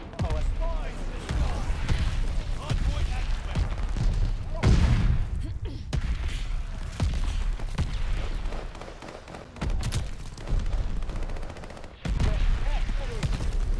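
Mortar shells and gunfire bursting in Call of Duty: Vanguard, a dense, continuous stream of booms and rattling shots with louder thumps scattered through it, while players talk over the battle.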